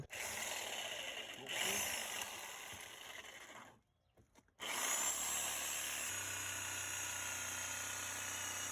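A power drill working on deck stairs whirs with grinding, buzzing noise that stops briefly, then starts up again and runs steadily.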